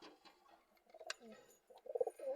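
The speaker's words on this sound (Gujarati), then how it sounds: "આ બધા જો ફેન્સી કબૂતર છે પાંચ કબૂતર કાલ હું લાવ્યો" Fancy pigeons with feathered feet coo softly at close range in a quiet pen, with a few faint rustles before a short burst of throaty cooing near the end.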